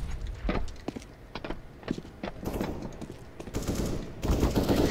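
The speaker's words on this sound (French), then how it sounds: "Throwing a flashbang." A flashbang grenade is thrown in Counter-Strike: Global Offensive, amid a string of sharp gunfire-like cracks and bursts, loud and close, with a heavier burst toward the end.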